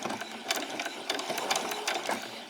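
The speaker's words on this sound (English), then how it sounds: "We're going to do a few on, do a back stitch" A sewing machine runs a back stitch on a pajama top seam, giving a steady, close, rapid mechanical whirring and chattering with slight pulses in speed and no voices.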